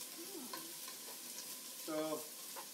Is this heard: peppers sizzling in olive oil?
yes